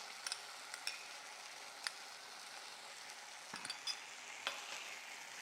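Honey sauce sizzling as it hits a hot pan during a Chinese cauliflower stir fry, a faint steady hiss with scattered sharp crackles and pops throughout, no voices.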